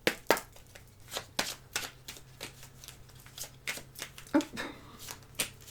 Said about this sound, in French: Je mélange celui-ci.